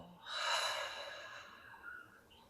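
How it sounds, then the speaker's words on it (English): A slow, deep meditative breath swells into a long, soft exhale that tapers away, close and quiet, with no talking over it. "Let's take one last nice deep breath here to round out our practice. Exhaling, letting it all go."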